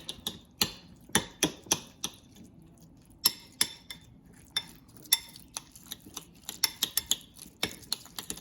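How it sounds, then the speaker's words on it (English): Sriracha and mayonnaise are mixed in a bowl for spicy mayo, with about two dozen sharp clinks and taps of a utensil against the bowl at an irregular rhythm, close and clear in a quiet room. "And then add sriracha, make a spicy mayo, and then just mix it all together."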